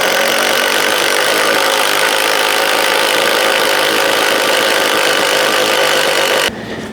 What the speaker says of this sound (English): we're gonna start drilling our holes for the dedicated circuits